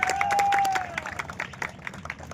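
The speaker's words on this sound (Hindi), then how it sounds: "जोरों की ताली।" Crowd applause at an outdoor prize distribution ceremony, a busy patter of many hands with some cheering, mixed with a sustained whistle-like tone at the start.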